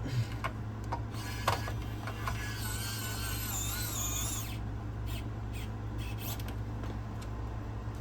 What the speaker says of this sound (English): I recommend unscrewing this first, and I unscrewing these back screws first.